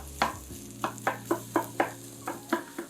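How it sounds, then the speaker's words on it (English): Sun-dried tomatoes and chickpeas sizzle in a pan while something scrapes and stirs them in regular strokes, about eight close, crisp swishes with no voices. "you can hear that nice sizzling"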